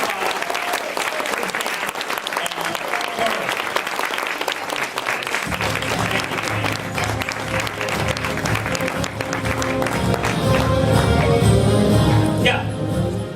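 A crowd at the Monsters University Toy Fair 2013 event with John Goodman applauds loudly and continuously, a dense roar of clapping mixed with cheers, swelling toward the end while a background hum and music-like tones sit underneath.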